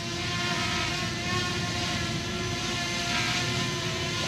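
A Fimi X8 Mini drone flies in to land, its rotors giving a steady, fairly loud whining buzz with a tonal hum throughout.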